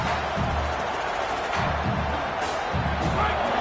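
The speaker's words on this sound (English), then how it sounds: "This crowd trying to make life miserable for this offense." Steady roar of a football stadium crowd cheering during a game, a dense continuous wash of noise with faint swells.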